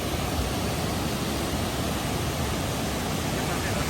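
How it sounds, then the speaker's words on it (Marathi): A waterfall at Dhutpapeshwar temple near Ratnagiri gives off a steady, dense rush of falling water, loud and unbroken throughout. "तुम्ही पाहू शकता किती सुंदर वॉटरफॉल आहे हा"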